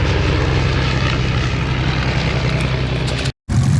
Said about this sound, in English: Listen to the engine go off and on as they come in.